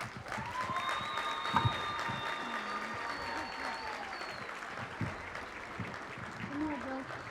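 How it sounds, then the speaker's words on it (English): A crowd at a women's high school basketball game applauds steadily for several seconds, a dense wash of clapping with a few cheers and a voice faintly underneath. "One more round of applause"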